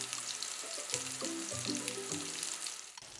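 Mini meatballs fry in a pan of butter and olive oil, giving a steady, close sizzle and crackle that runs without a break, with faint clinks along the way.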